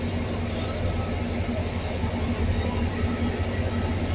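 Pakistan Railway's Sir Syed Express pulling out of the station behind an HGMU-30R locomotive, a steady loud rumble of wheels and rolling stock with a constant engine drone and faint squeal, close by and unbroken throughout.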